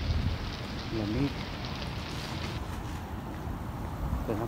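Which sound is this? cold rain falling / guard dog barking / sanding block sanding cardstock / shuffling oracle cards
cold rain falling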